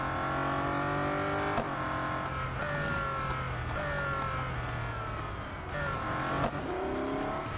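A Bugatti Centodieci in the racing game Real Racing 3 accelerates hard, its loud engine note climbing through gears with several shifts and rev rises, close and continuous with no talking.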